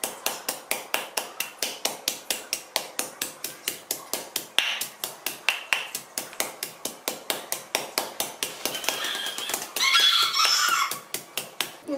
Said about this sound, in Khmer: ឥឡូវយើងចាប់ផ្ដើមបុកគ្រឿងសិន